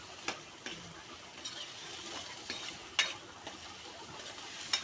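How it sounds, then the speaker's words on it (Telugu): Chillies and onions frying in a pan while being stirred, a soft continuous sizzle broken by scattered light scrapes and clicks of the spoon against the pan. "చిల్లీస్ 2 cups ఆనియన్స్ వేసుకుందాం. అవి బాగా కలుపుతూ ఉన్నాం."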